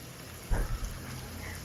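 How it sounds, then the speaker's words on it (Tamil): Goat spleen pieces deep-frying in hot oil over a medium flame, a steady crackling sizzle like light rain with a brief louder burst near the start. "ஆயில் ஊற்றிட்டு இப்போ நம்ம இது எல்லாமே பொரிச்சு எடுத்துக்கலாம்."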